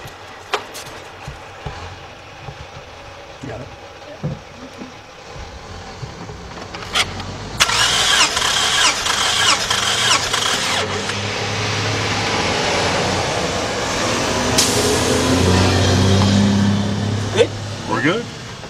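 A 2009 Toyota RAV4 with the 2.5 engine, which burns oil and misfires on cylinder three, cranks and then catches, followed by a steady running rumble. Scattered clicks and handling noises come first, with talk nearby.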